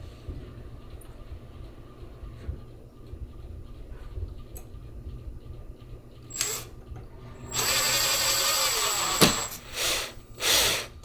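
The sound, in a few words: power drill screwing blind bracket to windowsill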